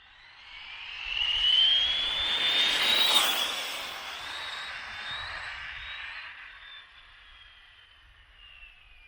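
Small motor on a model speed-run craft screaming past at high pitch, swelling loud as it nears and slowly fading into the distance with a wavering, surging whine.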